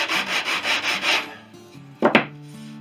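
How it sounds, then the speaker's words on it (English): Rhythmic back-and-forth strokes of coarse 80-grit sandpaper rubbing on wooden kit plane tail gussets, close up, followed by a pause and a short scraping burst. "I'm just sanding down at the moment with 80 grit."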